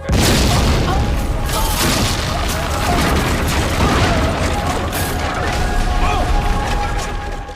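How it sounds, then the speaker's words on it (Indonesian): A bomb explosion brings down a police station: a loud, sustained roar of explosions and crashing debris, dense rumbling with rapid blasts layered over each other throughout, with voices faintly mixed in. "Di tengah ledakan yang meruntuhkan kantor polisi"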